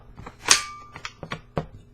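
Airsoft M4-style rifle magazine clicking shut into the receiver, a sharp close snap followed by a few smaller handling clicks and taps, with no talking.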